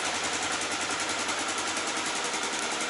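A motorcycle idles steadily nearby, a low continuous engine rumble with no voices over it.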